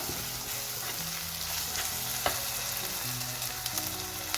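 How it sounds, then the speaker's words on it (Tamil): Tomato and onion sauté in hot oil for a Sri Lankan fish curry, giving a steady broadband sizzle with a few soft utensil knocks and scrapes, close and continuous, with no voices. "இப்போ தக்காளி வெங்காயம் வதங்கிட்டுது"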